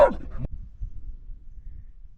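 A dog barks near trees along a dirt road between La Purísima and Mulegé in Baja California, one short sharp bark at the start, then only a faint low rumble.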